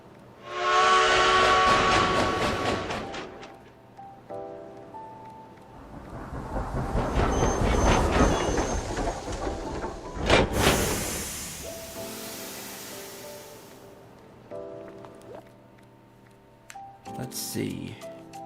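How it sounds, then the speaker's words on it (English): A train departs in World of Final Fantasy, with a long steam whistle blast, hissing steam and rumbling rail noise that swells and fades over several seconds, mixed with game music and voices. "Let's board the train."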